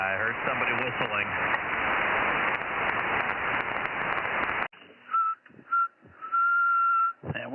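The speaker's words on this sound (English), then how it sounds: "I heard somebody whistling." Someone whistling over a 23cm amateur radio net, thin tones coming through after a burst of noisy static, heard as a few short whistles and one longer held note, with some talk on the channel.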